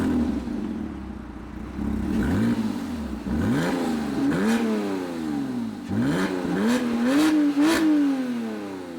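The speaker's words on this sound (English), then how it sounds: "This is the sound of the exhaust with just the rear GT exhaust on." Porsche Cayman engine with only the rear GT exhaust fitted, revved repeatedly: a series of rising and falling throttle blips, each climbing sharply then dropping back, loud and close, with the last few revs quicker and higher.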